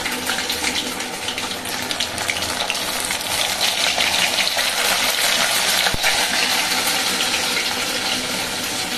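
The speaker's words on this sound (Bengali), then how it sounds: "একটু ডুবো তেলে ভাজবো" Stale roti kofta balls deep frying in hot oil, a dense, continuous sizzling crackle with a brief sharp knock near the end, close and steady throughout.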